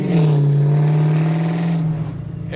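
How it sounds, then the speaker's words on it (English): A 1969 Chevrolet Camaro restomod with an LS engine drives along, its engine holding a loud, steady, close drone that eases slightly near the end. "Restomod Camaro. Sounding amazing, driving great."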